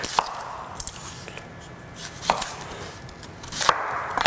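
An onion roughly chopped with a knife on a cutting board, a few sharp chops spaced irregularly with a soft hiss between them, close and moderately quiet.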